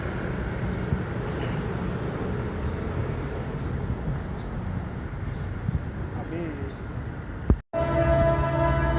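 A train passing through Kramasan station, a broad continuous rumble and rattle of rolling cars close by, steady for several seconds, then a brief cutoff followed by a droning horn-like tone.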